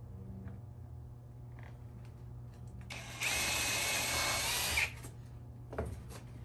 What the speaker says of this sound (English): So let's drill my hole.